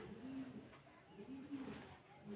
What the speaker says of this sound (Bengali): এই যে গাছের মধ্যে অনেক পাখি আসে, কিচিমিচি করে